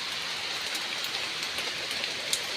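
Steady rain falls and patters on a surface nearby, a constant hiss with occasional louder drops.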